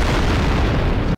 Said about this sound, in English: Look at this explosion in my hand.